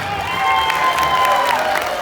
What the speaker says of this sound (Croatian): ajmo jedan aplauz za njih